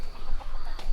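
Farm chickens cluck in a brief, close burst of short, throaty calls over a low background hum.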